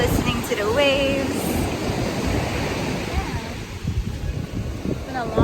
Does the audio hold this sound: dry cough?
no